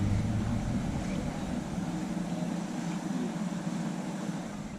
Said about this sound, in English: And there goes the tour boat passing us by.